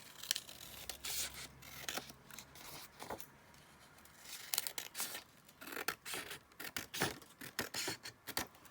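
Scissors trimming the edge of a paper cover for a folio made from a kids' book, a string of crisp, close snips and rustling paper in irregular bursts, quiet with no talking.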